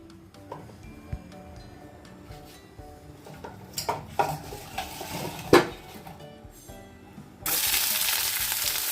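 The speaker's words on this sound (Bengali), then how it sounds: "হালকা করে ভেজে নেব সবজিগুলোকে বেশি ন্যানারা করব না" Vegetables lightly frying in a pan for sandwiches, a soft steady sizzle with scattered clinks and scrapes of a utensil, growing to a louder hiss near the end.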